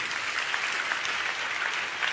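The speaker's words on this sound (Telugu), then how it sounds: "చప్పట్లు కొడుతూ స్తోత్రాలు చెప్దాం" A church congregation claps together in a dense, continuous burst of applause, loud and even, filling the room.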